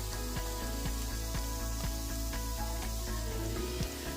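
Asafoetida crackles and hisses in hot oil with ginger and green chilli as a tempering for dal khichdi, a steady close sizzle with soft periodic pops and no talking.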